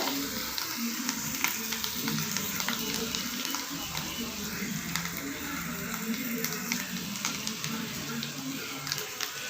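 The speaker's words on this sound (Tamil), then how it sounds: "நல்லா இந்த ஸ்டேஜ் அளவுக்கு நல்லா ஃப்ரை பண்ணிக்கோங்க எக்கை" Eggs frying in a pan, a steady close sizzle and crackle with faint scattered pops that continues without a break and without speech.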